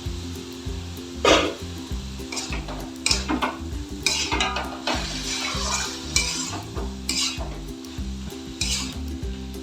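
Shredded banana stem and shrimp stir-fried in a pan, a steady sizzle broken by repeated scraping bursts of a spatula against the metal, with a low rhythmic hum running underneath.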